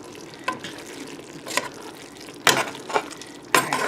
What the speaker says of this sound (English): I'm going to give these a little stir